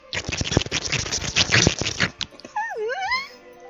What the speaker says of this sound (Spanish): Mientras que Miena corría alrededor de ella ladrando.